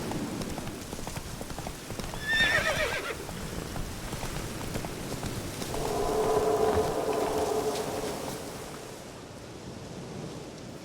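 A horse in a video game whinnies briefly and then neighs again more loudly, with a soft clip-clop of hooves and an ambient wash running beneath.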